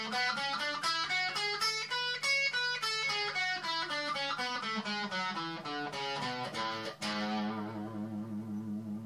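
The Locrian mode, the seventh mode of the major scale, is played as a scale on a distorted, effects-heavy electronic instrument, with a quick run of bright stepping notes followed by a sustained final tone, no voices.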